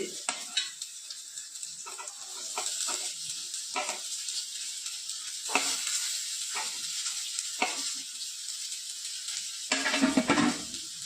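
Chopped beans with onion and curry leaves sizzle in a frying pan, hissing steadily while a spoon stirs and scrapes in repeated short strokes, close and clear.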